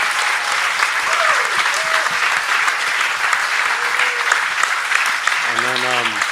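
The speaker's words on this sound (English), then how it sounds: "So huge round of applause to the gate people." An audience at a conference Q&A session claps steadily throughout, a dense, even wash of applause, with a few faint voices calling out near the end.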